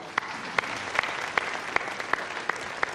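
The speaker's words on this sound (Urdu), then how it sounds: "ذرا بھرپور تالیاں بجا کے" Sparse, faint clapping from a studio audience during a televised Ramadan iftar show, with a handful of distinct claps spaced roughly evenly over a few seconds.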